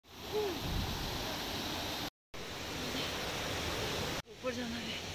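A waterfall in Ziro, Arunachal Pradesh gives a steady broadband rush of falling water, fairly distant and soft, with brief cuts and a few faint voices.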